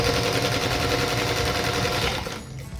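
A sewing machine runs a close, continuous stitching whir while joining quilt block units for a Dandy Star quilt block, then stops near the end. No one speaks.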